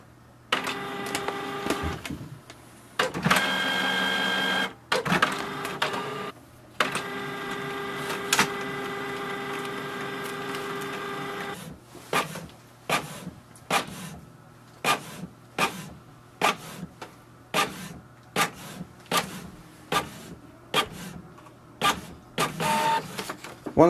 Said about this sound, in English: Once your printer prints the network configuration page, that means your printer is reset to factory defaults.